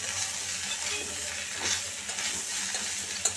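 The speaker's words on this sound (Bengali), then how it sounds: "আমি কয়েক মিনিটের জন্য কচুরমুখীটা ভেজে নিলাম" Taro roots fry in oil with a constant close sizzle and light stirring crackles throughout.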